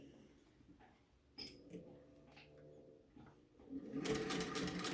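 A sewing machine stitching elastic onto a cloth face mask, starting with faint mechanical taps and building to a loud rapid whirring run near the end, with muffled handling noise before it.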